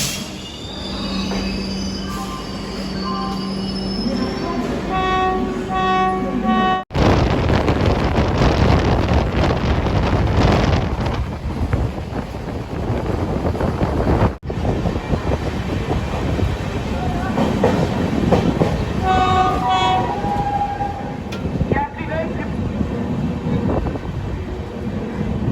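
The Magadh Express pulls into Dildarnagar Junction in India, its wheels squealing loudly and steadily over a heavy rolling rumble of railcars, with wind buffeting the microphone throughout.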